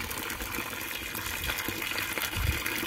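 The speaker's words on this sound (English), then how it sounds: "And we're going to water that one." Water gushes steadily onto a garden plant in a pot, a continuous close splashing pour with a slight surge near the end and no talking.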